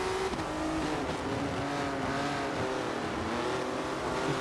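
Volvo S60 STCC race cars lapping at Hockenheim in a sim race, several engines droning together under rising and falling pitch, loud and continuous with no talk.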